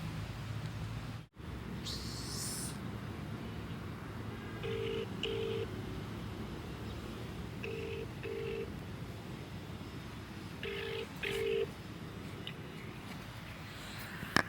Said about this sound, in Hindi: आदित्य को फ़ोन करते हैं और उसको बुलाते हैं पहले